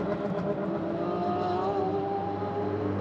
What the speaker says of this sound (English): some of the engine sounds that are rumbling past me, it sounds like the Millennium Falcon from Star Wars